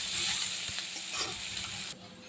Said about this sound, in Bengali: পেঁয়াজটা একটু লাল লাল ভাজা হবে।